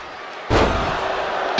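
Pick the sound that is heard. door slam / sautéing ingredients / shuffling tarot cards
door slam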